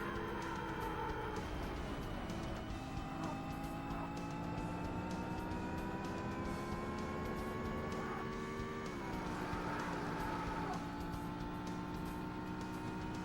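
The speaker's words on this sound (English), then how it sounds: "Supposedly the warrior car like immediately accelerates" A warrior car from the Sega Saturn racing game Need for Speed accelerates hard, its engine whine sustained and rising in pitch, dipping once then climbing again, loud and continuous with no talk.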